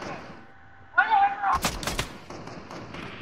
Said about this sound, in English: There's somebody shooting at me, trying to shoot at me